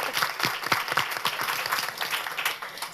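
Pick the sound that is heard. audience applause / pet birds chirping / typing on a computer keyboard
audience applause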